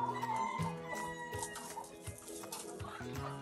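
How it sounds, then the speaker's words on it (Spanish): Many roosters and hens in a rooster pen in Tenares, Dominican Republic, cluck and call over one another in a busy, continuous chorus at close range. "entré al área de los gallos."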